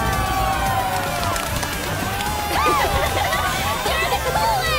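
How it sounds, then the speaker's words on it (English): Crowd cheering and applause in an arena scene of Final Fantasy VII Rebirth, a steady dense roar of voices with rising whoops and whistles throughout, loud and continuous. "Give our worthy contender another thunderous round of applause!"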